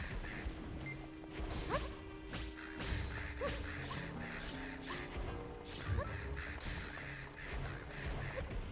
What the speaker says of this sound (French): Les corbeaux, ils font le taf.